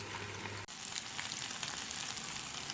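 Chicken shashlik sticks grill in a pan with a steady, dense sizzle that holds even and close throughout, broken only by a brief dip near the start.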